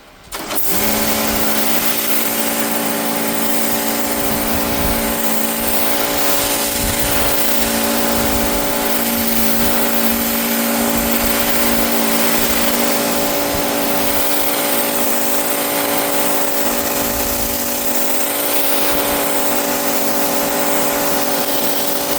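A Giraffe Tools electric pressure washer runs with its turbo nozzle spraying concrete, a loud, steady, close hiss and motor whine holding constant for over twenty seconds after an abrupt start.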